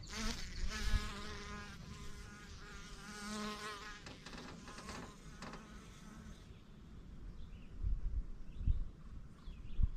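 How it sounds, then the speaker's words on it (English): Honeybees buzz close by in a steady, droning hum with overlapping wingbeat tones, joined near the end by low thumps and handling noise. "Alright, we got another bee up there."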